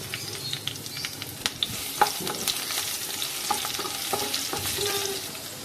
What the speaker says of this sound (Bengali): রসুনটা হালকা হালকা ব্রাউন হয়ে এসেছে